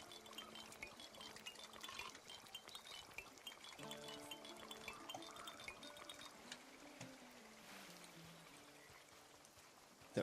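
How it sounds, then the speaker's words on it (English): Water being collected in a swamp dungeon in a video game, a soft, steady pouring and filling wash with light clinks, set under faint game music and heard with no talk. "I'm gonna grab a bunch of water."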